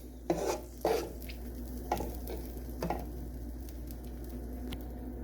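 Chicken and penne stir fry being stirred in a pan, a few scraping, squishing strokes at the start and again later over a low steady sizzle, close and alone without talk.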